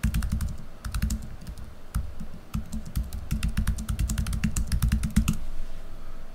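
Rapid typing on a computer keyboard while text is entered into a software form, with bursts of close, crisp key clicks separated by brief pauses over a steady low hum.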